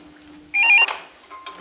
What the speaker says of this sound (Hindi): देखो टेलीफोन